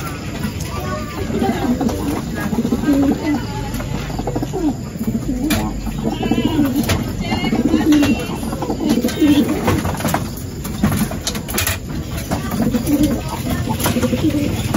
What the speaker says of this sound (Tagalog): Ayun, bumalik naman mga kalapatids.